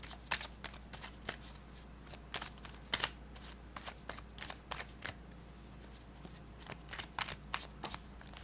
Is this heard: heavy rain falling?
no